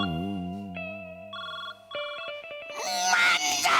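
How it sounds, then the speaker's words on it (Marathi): A phone rings with a synthetic ringtone melody of stepped tones, moderately loud and close, turning into a distorted, noisy burst near the end. "फोन वाजला."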